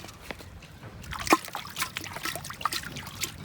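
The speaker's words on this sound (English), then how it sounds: "I'll just fetch some few water in this area that is a little bit clean" Water is scooped by hand from a shallow, stagnant stream in a rural Kenyan village, giving soft intermittent trickles and small splashes with one sharper slosh, close by and fairly quiet outdoors.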